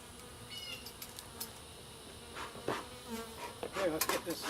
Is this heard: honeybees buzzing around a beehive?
yes